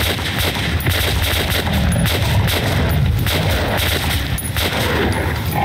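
Rapid gunfire from shooting a monster in the game Metro: Last Light, loud and sustained with dense repeated bursts and metallic clangs throughout, no voices.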